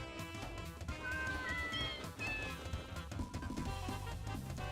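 Cats meow in the video game Deltarune, several short high meows rising over steady background music, moderately loud and close.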